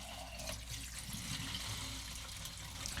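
Water is poured into a film developing canister for a pre-wet step, giving a soft, steady liquid pour and trickle that runs continuously at low level with no talking.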